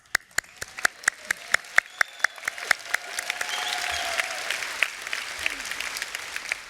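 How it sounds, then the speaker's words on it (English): At a UNISON trade union conference, a crowd applauds: first a few loud, distinct claps close by, then the whole hall swells into sustained, dense clapping. "I'm going to applaud Scotland, actually."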